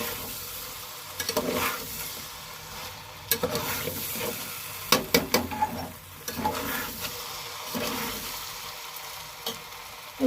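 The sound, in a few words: stirring chicken frying in a pan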